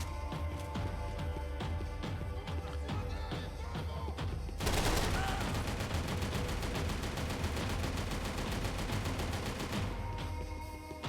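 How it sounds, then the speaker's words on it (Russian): Sustained machine gun fire fills a Max Payne 3 shootout as rapid, dense bursts of shots that grow louder and more continuous partway through, then ease slightly near the end. "Он с пулемета стреляет или что?"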